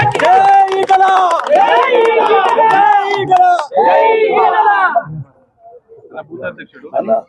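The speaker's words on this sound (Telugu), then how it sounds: "ఒకసారి గట్టిగా చప్పట్లు కొట్టాలండి" A village crowd at a temple idol installation ceremony with a visiting MP bursts into loud cheering and shouting with scattered clapping, a dense surge of voices that fades to scattered calls.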